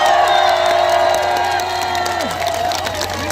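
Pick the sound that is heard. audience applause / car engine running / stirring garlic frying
audience applause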